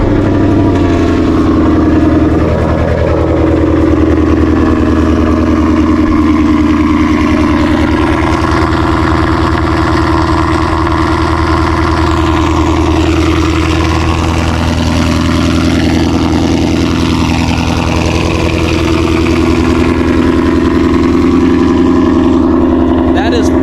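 A Ford Mustang with a manual clutch and 80,418 miles on it runs loud and close, holding a steady idle between repeated revs that rise and fall throughout.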